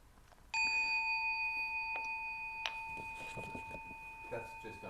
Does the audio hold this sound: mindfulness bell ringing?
yes